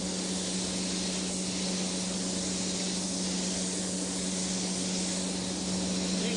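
A spray gun lays down an even wet coat of tangerine candy paint, giving a continuous, steady airy hiss with no breaks or talk.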